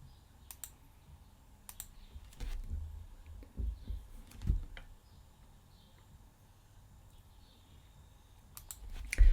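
Mouse clicks while finger joints are modelled in Tinkercad, sharp and close, arriving in small irregular bursts with pauses between them over a faint background hum.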